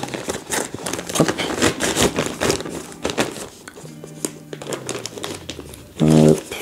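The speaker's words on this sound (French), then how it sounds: "Je ne veux pas destroy le sac plastique" A plastic bag wrapped around a DJI Avata 2 FPV drone being unwrapped, with continuous close crinkling and crackling during unboxing, ending in a short tonal sound.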